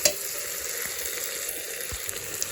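Curry leaves and green chillies sauté in hot oil in a pan for mutton biryani, giving a steady close frying sizzle with a few faint pops and no talk.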